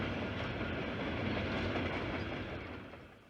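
A train rolls along a colonial African railway in a steady, dense rumble of wheels and carriages with faint clickety-clack, fairly quiet and easing off toward the end.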